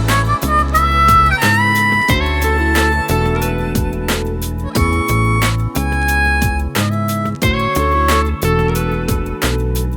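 Nighttime stage music from the Sonic Unleashed video game soundtrack, featuring harmonica over a steady, punchy rhythm with bass and percussion, playing loud and continuous throughout.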